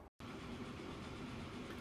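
A train running in the video game Transport Fever 2 gives a steady, even rumble with a faint rattle, holding continuously after a brief gap at the start.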